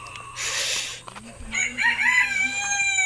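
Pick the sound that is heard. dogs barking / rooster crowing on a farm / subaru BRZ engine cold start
rooster crowing on a farm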